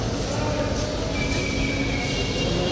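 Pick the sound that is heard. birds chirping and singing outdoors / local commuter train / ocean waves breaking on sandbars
local commuter train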